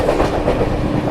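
Riding aboard the New Delhi–Puri Purushottam Express as it passes Vindhyachal railway station, a loud, steady rumble of wheels and carriage with soft rhythmic clacking fills the short stretch, no voices.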